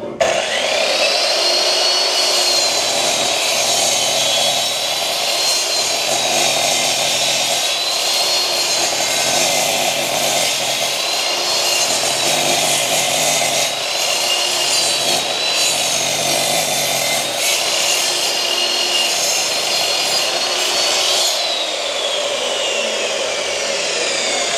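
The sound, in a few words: INGCO 1800W miter saw cutting a thick wooden beam at 45 degrees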